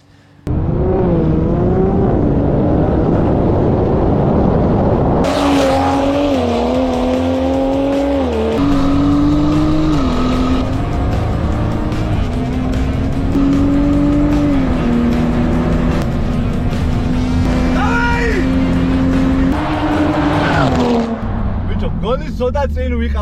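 A Toyota Supra 550HP and a Mercedes C63 650HP launch in a drag race, engines roaring and revving hard with rising gear pulls and tire squeal, loud and continuous with voices underneath.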